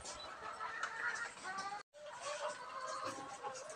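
Breeder chickens in a small multi-level coop clucking and chattering together close by, a steady busy murmur of hens with a brief cut in the middle.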